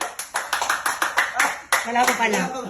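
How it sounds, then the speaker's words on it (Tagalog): A small crowd claps in uneven bursts to welcome a performer at an event, loud and close, with people talking and calling out over the claps. "Palakpak!"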